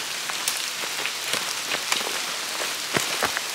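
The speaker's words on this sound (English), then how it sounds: "It's raining. Pretty hard." Steady heavy rain pouring down on the Camino de Santiago, a dense hiss with scattered louder drops splattering close by, no voices.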